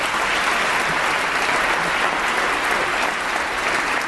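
Steady, dense applause from an assembly chamber audience for the Dalai Lama, continuous and even throughout with no break.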